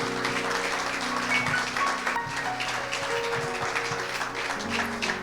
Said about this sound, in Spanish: Si ese aplauso fue para el Señor, déselo más fuerte